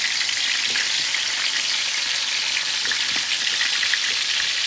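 Yogurt-marinated, pre-boiled chicken frying in oil for chicken biryani, a steady, dense bubbling sizzle heard close and fairly loud with no voices.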